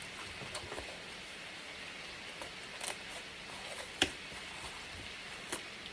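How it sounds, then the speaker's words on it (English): Light rain patters softly and steadily, with scattered individual drips tapping nearby at irregular intervals. "It is raining."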